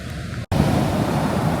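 Pacific Ocean surf on the West Coast, a broad continuous wash of breaking waves with wind noise, cut by a brief dropout before the roar resumes.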